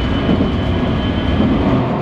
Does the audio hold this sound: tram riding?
yes